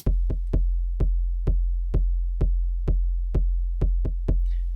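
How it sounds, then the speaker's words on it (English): A punchy techno kick drum built by layering samples hits alone in a steady pattern, each thump carrying a long, booming low end with a short bright click on top. "the kick sounds after all the work sounds like this."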